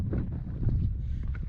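Wind gusting into the microphone outdoors on a winter waterfall walk, a close, low rumbling buffet that swells and eases over a moment, with no talking.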